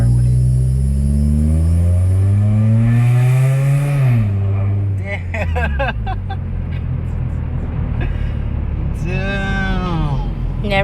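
A 2004 Honda Civic EX coupe with an Injen cold air intake accelerates loudly from inside the cabin, its engine note climbing through the gears while people talk.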